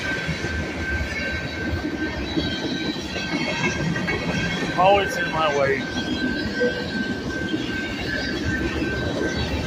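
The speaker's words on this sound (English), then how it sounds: "fucking damn train." A train rolls past right beside a house, a steady loud rumble of rail wagons with brief wheel squeals near the middle, while someone talks angrily over it.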